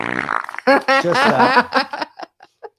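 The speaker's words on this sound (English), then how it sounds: "Farts are funny." A loud, drawn-out fart rasps and sputters, then breaks into a few short, trailing puffs before falling silent.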